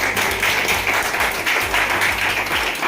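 Audience applause at a basic training meeting in Virar, a steady dense wash of clapping from a crowd, fairly loud and continuous throughout.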